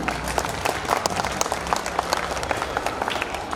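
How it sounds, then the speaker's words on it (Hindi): An audience at a school's annual day celebration applauds steadily, a dense, even wash of many hands clapping close by that holds for the whole stretch with no pauses. "प्लीज जोरदार तालियों से मैम का दोबारा से स्वागत करें।"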